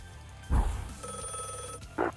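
Steady electronic telephone ring in a video game, heard for about a second between two short thumps, at moderate loudness.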